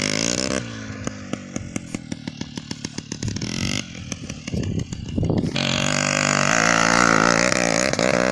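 A Soviet Voskhod motorcycle engine sputters in rapid uneven pops, then revs up into a loud sustained roar close by, with little talk.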